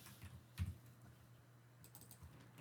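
Soft, sparse keystrokes on a computer keyboard while typing C++ code, a handful of quiet taps close by with one slightly louder thump, no talking.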